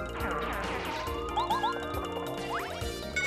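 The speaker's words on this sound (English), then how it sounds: "now my hammer is so powerful I can actually kill buzzy beetles by smashing them" A hammer smashing a buzzy beetle in the Paper Mario video game, a sharp crash and whack amid game music, with quick rising chirpy sound effects following the hit.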